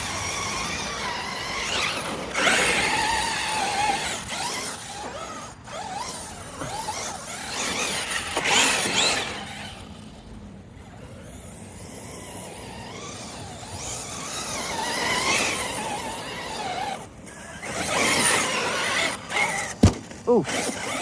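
Outcast and Kraton XL RC cars driving around outdoors, continuous whining motor and tire squeal rising and falling as they speed up and turn, with a few sharp knocks and a loud bang late on.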